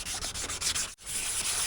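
A car headlight is wet-sanded by hand with 360-grit paper and water, worked in circles: a steady, close, hissing rasp with slight rhythmic strokes, broken once by a brief pause.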